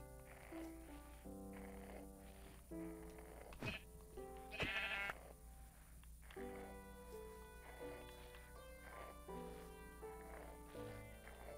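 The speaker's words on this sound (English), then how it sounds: "Why are there so many sheep," Sheep in Minecraft bleat repeatedly in a village, with many overlapping calls from several animals, some nearer and louder, forming a busy chorus with brief gaps.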